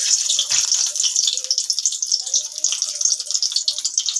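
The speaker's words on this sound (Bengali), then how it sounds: "কড়াতে তেল দিয়ে দিয়েছি, তেলটা গরম হয়ে গেছে। এরপর এখানে যে দুটো শুকনো লঙ্কা ছিল এটা আমি দিয়ে দেব।" Dried red chillies dropped into hot oil in a wok for egg dal give off a steady, close crackling sizzle with no talk.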